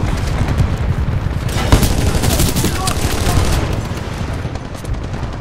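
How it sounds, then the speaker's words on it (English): Dense, loud gunfire from Titanfall 2 Attrition gameplay, a continuous rattle of automatic weapon fire with booming impacts and no pause, heard alone without talk. "Keep firing!"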